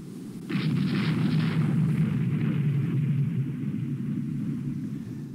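A shell strikes a battleship in the naval strategy game Rule the Waves II, giving a deep rumbling explosion with a sharp onset that rolls on for several seconds before easing into a lingering low rumble.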